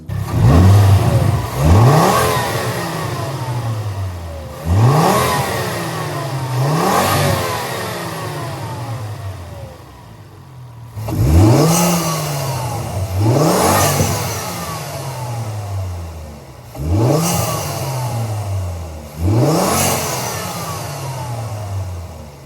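A Volvo C30 fitted with a new intake revs repeatedly in bursts, each rise followed by a quick drop, with blow-off valve releases between pulls; loud and close, about eight rev cycles with no talking.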